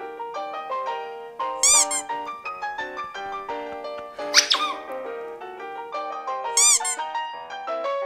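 A bird produces a run of squeaky, toy-like chirps with rich overtones, with three sharper squeals standing out, loud and close with no talk.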